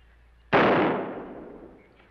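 A single sharp gunshot in a western TV episode cracks out suddenly, loud and close, then its echo fades slowly over more than a second.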